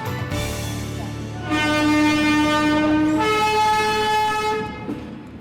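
A train at New Delhi railway station, its horn sounding in long sustained tones over the steady rumble of rolling stock, loud and close with no talk.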